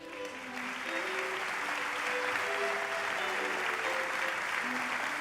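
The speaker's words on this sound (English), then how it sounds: "a warm round of applause for the first 4 winners in this category of our awards" A large audience applauds award winners at the 2016 European Heritage Awards ceremony in Madrid, with dense, sustained clapping that holds steady and loud for the whole stretch.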